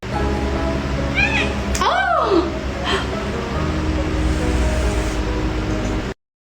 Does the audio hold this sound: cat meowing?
yes